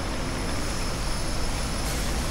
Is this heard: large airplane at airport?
yes